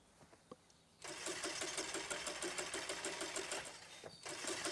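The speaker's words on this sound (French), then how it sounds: "je crois qu'il y a un problème avec le moteur" A car engine in The Quarry video game cranks with a fast, rhythmic starter whir that runs for about three seconds, pauses briefly, then starts cranking again without catching, loud and close.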